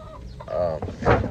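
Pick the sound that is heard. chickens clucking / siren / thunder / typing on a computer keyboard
chickens clucking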